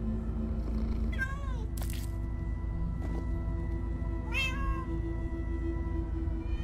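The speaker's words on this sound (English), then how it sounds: "Many cats, so many cats!" Cats meow in the video game Minecraft Story Mode, giving several rising meows over a steady low background hum with faint game sounds.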